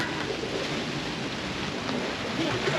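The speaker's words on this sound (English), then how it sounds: "this is the first squall with some rain" A rain squall sweeps over a sailboat anchored in a Tuamotu atoll, producing a steady, dense hiss of rain and wind that stays even and loud throughout without pauses.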